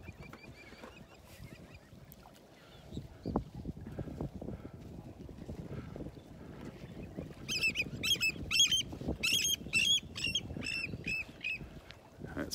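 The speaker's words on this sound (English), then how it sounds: "It's one of those noisy willet birds." Sharp, repeated bird calls ring out in quick bursts in the second half, a willet calling on a beach in North Naples, Florida, over low rumbling surf and wind noise.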